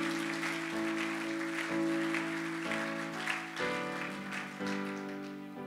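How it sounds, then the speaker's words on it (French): A church congregation claps and acclaims the Lord during a sermon, steady applause spread across the whole stretch over sustained keyboard chords that shift every second or so. "Acclame pour le Seigneur bien-aimé."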